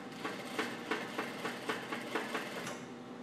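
A sewing machine stitches blouse fabric in a quick, even rhythm of mechanical thumps, about three per second, then stops near the end; close and moderately loud, no voices.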